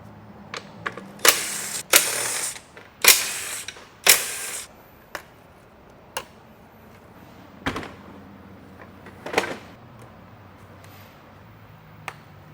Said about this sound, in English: We're going to take out these bolts. They use a 12mm socket.